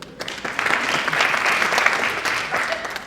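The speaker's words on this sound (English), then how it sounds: "So give yourself a round of applause." An audience at an improv talk claps for itself, a dense, even round of applause lasting a few seconds before easing off.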